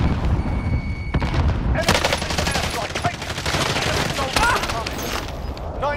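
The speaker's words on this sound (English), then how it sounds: "Receiving hostile fire." Gunfire in Call of Duty: Modern Warfare multiplayer, rapid overlapping bursts of automatic shots that begin after a second and continue loud and sustained with impact crackles, a game voice line and player chatter mixed in.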